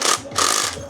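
Ratchet loosening a fastener on a Seat car during suspension spring work, two quick bursts of rapid clicking close up.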